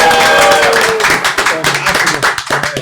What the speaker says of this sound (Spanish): Un aplauso para Héctor.